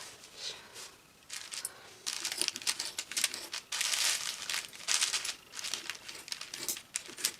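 Scissors snip armholes out of fluffy fur fabric for a hoodie, giving a run of close, crisp crinkling and rustling cuts in irregular bursts, with brief pauses between strokes and no talking.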